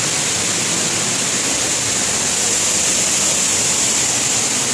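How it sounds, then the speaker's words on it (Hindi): Water from one of the Four Waterfalls in the Brecon Beacons, Wales, pours down in a loud, steady, broadband roar close to the listener, with no break and no talking. "ये हमारे ऊपर पानी डाल रहे हैं, हमारे ऊपर पानी है।"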